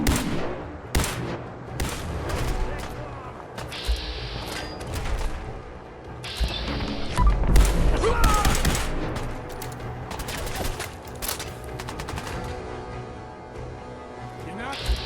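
Dense video game gunfire in Fallout 4, with bursts of automatic shots, booming blasts and mechanical clatter filling most of the stretch, loud and close, while characters talk over the fighting.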